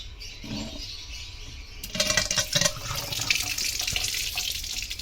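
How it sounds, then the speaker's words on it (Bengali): Fresh water pouring from a tap into a container, starting after a quieter moment and then running steadily and fairly close, a continuous splashing gush with no talk. "এবার দিয়ে দেওয়া হচ্ছে নতুন জল।"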